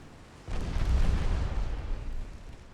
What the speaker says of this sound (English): Those 2 torpedo hits, well, they did help.